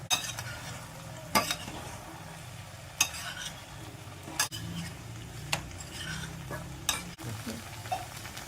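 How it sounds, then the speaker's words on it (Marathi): Fried gobi manchurian being stirred into a masala in a pan, with repeated scraping strokes of a spoon against the pan every second or so over a low, steady sizzle, close and fairly quiet. "आता याच्यात आपण हे गोबी, तळलेले गोबीचे मंचुरियन आता याच्यात मिक्स करू."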